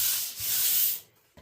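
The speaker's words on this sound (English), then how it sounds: "That Wen sander makes easier work." A short burst of a Wen electric sander on a bathroom wall, a smooth abrasive hiss for about a second before cutting off, close and fairly quiet.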